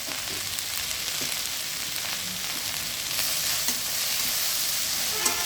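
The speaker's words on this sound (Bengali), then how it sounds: "এবার এতে দিয়ে দেবো কাঁঠালের বীজ আর কটা চিরা কাঁচা লঙ্কা" Jackfruit seeds and slit green chilies frying in oil in a pan, a constant close hiss of sizzling with light crackles and occasional scrapes of stirring, no talking.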